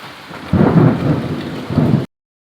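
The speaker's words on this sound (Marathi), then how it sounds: "इथून बघ इथून दिसते बघ जोरात पाऊस होऊन राहिला" Heavy rain pours down steadily in a dense, close wash of noise, with deeper rumbling surges, before cutting off abruptly.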